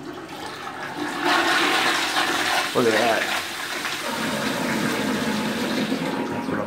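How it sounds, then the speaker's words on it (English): A gravity-fed toilet in an apartment near Serapo beach in Gaeta, Italy flushes with a loud rushing surge of water that settles into steady refilling, while someone speaks briefly nearby. "So when you flush, you got the power of gravity on your side."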